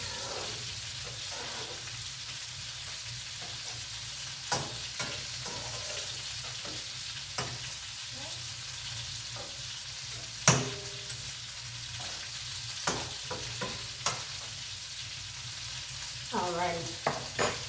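Chicken and shrimp pasta being stirred in a pan, with a steady low sizzle broken by scattered scraping clicks of a utensil against the pan, louder near the end; no talking.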